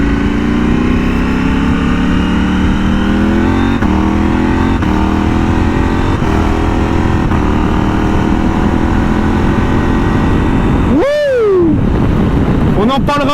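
A 2023 KTM 790 Adventure motorcycle engine drones loudly and pulls steadily through the gears with rising pitch, then revs sharply near the end, with wind rush throughout.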